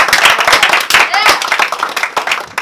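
A crowd claps and applauds for a film director. Dense, close clapping runs throughout, with voices mixed in.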